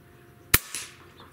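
A JTS Airacuda Max PCP air rifle fires a single sharp, close crack at a small egg target, followed a moment later by a softer impact splat and a fading tail.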